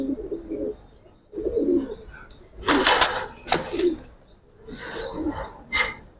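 Cooing from a pair of black-necked Giribaz pigeons, a plump-bodied cock and hen, comes in soft low bursts with sharper rustling noises between, a voice talking faintly underneath.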